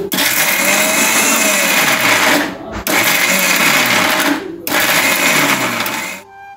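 A kitchen mixer grinder runs in three loud, close bursts with brief stops between them as it grinds chopped aloe vera and soaked fenugreek into a paste for herbal hair oil.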